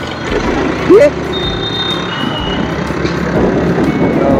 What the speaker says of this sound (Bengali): এখন আমরা ট্রাফিকে আটকে গেলাম